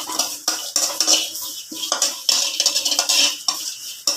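A metal spoon scrapes and clinks steadily against a pan while idly podi ingredients are stirred and dry-roasted, producing a close, continuous rhythm of rattling strokes with no voices.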